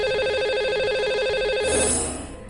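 A telephone rings out while a lucky caller's number is being dialed: a steady electronic ringtone with bright repeating tones that ends in a short click and a drop in level.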